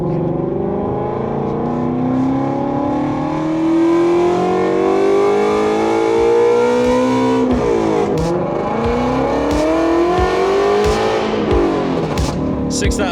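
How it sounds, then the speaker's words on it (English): A Shelby V8 car makes hard acceleration pulls, its engine note climbing loudly through the revs, dropping at shifts and climbing again, heard from inside with some talk mixed in. "We're gonna go do some pulls with the Shelby because sometimes V8 therapy is what we need, right?"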